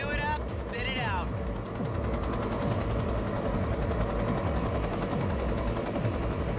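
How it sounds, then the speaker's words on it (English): A helicopter with an open door flies through stormy weather in the video game Cyberpunk 2077, its rotor chopping in a fast, steady, close rhythm, with brief voice-like chirps early on. "I don't know if I would like to fly in a chopper with an open door."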